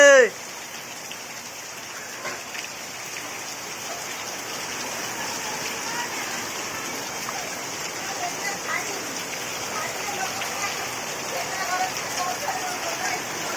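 Heavy monsoon rain pours steadily on a home where water is seeping inside, a dense continuous hiss of drops that thickens slightly over time after a brief loud opening burst.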